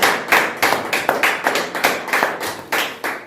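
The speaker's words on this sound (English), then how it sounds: "we've got to give ourselves a round of applause for making it this far" Audience at a hardware company's second-anniversary event clapping in a steady, rhythmic beat, with regular sharp claps close and fairly loud and no talking over them.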